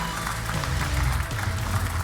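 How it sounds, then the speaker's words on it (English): Audience applause for an award winner called onto the stage at a start-up challenge ceremony, a steady wash of clapping held at an even level for the full two seconds, with a low hum underneath. "Big applause."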